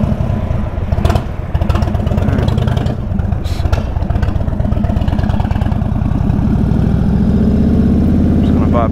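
An Indian Chief motorcycle engine idles up close with a steady, loud, throbbing pulse that rises slightly toward the end.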